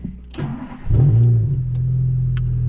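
A car fitted with a new aftermarket exhaust cranks and starts close by, then settles into a loud, steady idle with a low rumbling drone.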